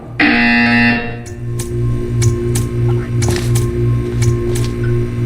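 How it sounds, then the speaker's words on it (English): A harsh electronic buzzer in Portal 2 blares for about a second, followed by a repeating pulsing tone with scattered clicks and taps. "You will hear a buzzer."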